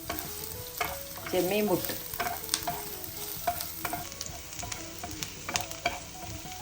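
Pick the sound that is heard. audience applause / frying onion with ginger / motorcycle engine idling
frying onion with ginger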